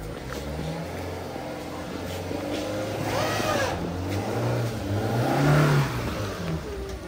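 A car turns around on a muddy road and pulls away, its engine humming steadily and then revving up louder toward the end, fairly close.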